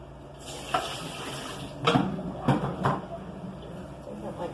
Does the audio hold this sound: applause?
no